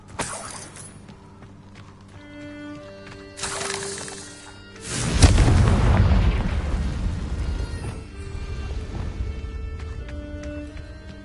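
Confringo explosive spell in Hogwarts Legacy, a deep booming blast that swells into a long rumbling roar with debris crackle, preceded by a few shorter magical bursts, loud and close.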